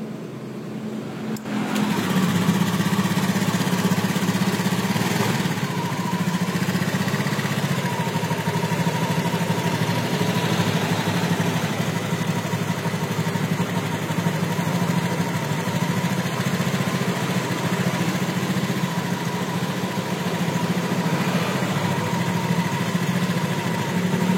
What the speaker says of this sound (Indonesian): jadi suaranya itu kemerincing di area CVT ya